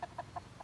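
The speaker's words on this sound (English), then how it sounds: "Hi, little chicken. Don't get hit by a car." A small chicken clucks four short times in an even rhythm, fairly near and quiet, with no talk over it.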